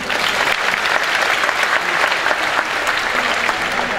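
Room of new university students at Sanata Dharma clapping together on request, a thick, continuous wash of applause from a large crowd, steady and fairly loud across the whole moment.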